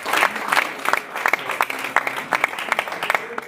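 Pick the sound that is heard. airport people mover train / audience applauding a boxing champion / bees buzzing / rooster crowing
audience applauding a boxing champion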